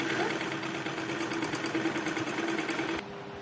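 A sewing machine stitches the lining of a kurti, running in a steady rapid mechanical hum with fast repeating clatter for about three seconds before easing to a lower, quieter whir; no one talks.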